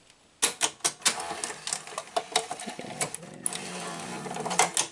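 A Sony SL-5000 video recorder's tape mechanism clatters and whirs as it fails to eject, giving a quick run of sharp mechanical clicks and ratcheting taps, close and fairly loud, with no voices.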